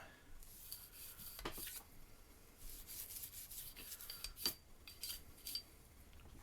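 Quiet, close scrubbing of powder residue from the rails of an FNX-45 pistol during cleaning, with irregular bristly rubbing strokes and small metallic scrapes over about six seconds, no talking.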